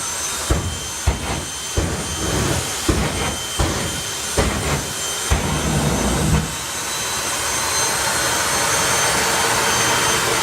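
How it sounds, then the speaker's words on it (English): Jet dragster engines idle and pulse at a drag racing start line during the FIA/FIM Euro Finals, with sharp afterburner pops in a loose rhythm giving way to a sustained, loud roaring whine. "And two jet dragsters coming forward onto the start line is one of the wonders of the world."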